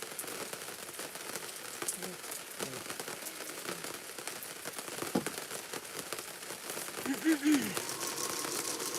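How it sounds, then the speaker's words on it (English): Steady rain patters on an awning close by, a constant crackling hiss with a brief low voice near the end. "In my defense, Deanne, when I set this up, it wasn't raining."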